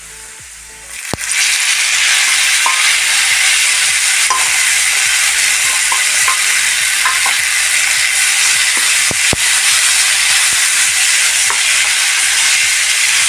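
Boiled plantain mezhukkupuratti stirred in a pan: a steady sizzle fills the clip, with regular scraping strokes of a spoon or spatula against the pan, close and loud, no talking.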